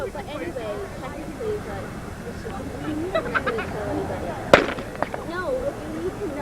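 A starting gun fires once for the boys' 1600 m race at a high school track meet, a single sharp crack cutting through steady crowd chatter and nearby voices.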